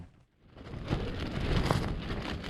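Light rain falls during a wind storm on the Mackenzie River, a soft steady patter of drops rising after a brief quiet start.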